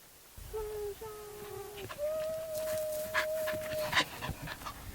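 A hot dog pants near a horse and mule corral, its breathing steady and close, mixed with a few high whimpering whines.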